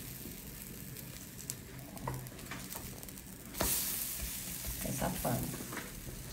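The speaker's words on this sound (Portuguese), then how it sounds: "E agora a gente espera fritar um pouquinho." Banana and oat pancake batter sizzling in a pan, a soft steady frying hiss up close with light scraping and a brief louder burst midway, as someone speaks briefly.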